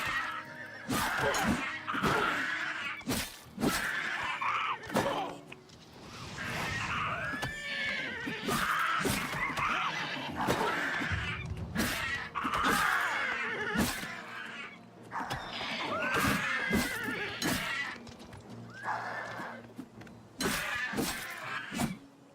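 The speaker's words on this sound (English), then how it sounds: "Stop shooting my horse." A horse in the video game The Elder Scrolls IV: Oblivion Remastered neighs and whinnies repeatedly while being shot, over a steady background hum, with sharp clicks and thuds scattered throughout.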